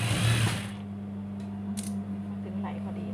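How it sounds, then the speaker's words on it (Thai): A sewing machine stitches dress lining with a steady mechanical hum and a faint rhythmic clatter. Brief fabric rustles sit on top of the running motor, which stays close and constant. "เราจะเย็บซับไหนประมาณมิลนึงกันไม่ให้เขาแลบออกมาด้านนอกนะคะ"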